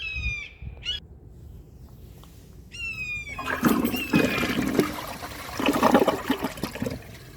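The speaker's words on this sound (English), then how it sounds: "So let's give this a flush and see how it does on tests." A Project Source Pro round toilet with its original flapper flushes in a rushing burst of water, then a rising trickling refill; the flush runs a bit short.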